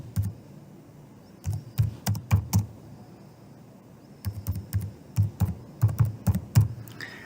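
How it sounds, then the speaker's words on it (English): Keys clatter on a computer keyboard while a case name is entered into a legal search database, two bursts of quick close taps separated by a pause. "Then we type in the case name."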